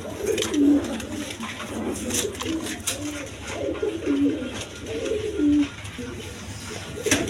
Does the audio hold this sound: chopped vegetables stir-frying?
no